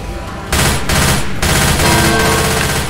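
Automatic weapon fire in the zombie shooter Left 4 Dead 2 during a versus match, loud continuous bursts of rapid shots running almost the whole time with a brief gap.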